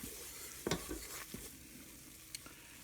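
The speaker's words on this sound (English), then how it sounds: "You got to stir it constantly." A gumbo roux being stirred in a rice cooker, quiet scraping and tapping strokes of a utensil over a soft, steady sizzle, a few distinct knocks at irregular intervals, with no talking.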